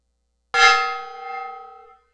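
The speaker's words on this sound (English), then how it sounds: "I will hit the gong, the 4th gong of the night." A gong is struck once, a sudden bright metallic crash that rings on with a shimmering tone and fades over about a second and a half, alone in a quiet room.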